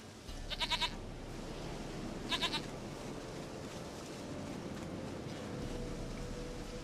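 A goat in The Witcher 3: Wild Hunt gives two short, wavering bleats early on over steady outdoor ambience and faint game music.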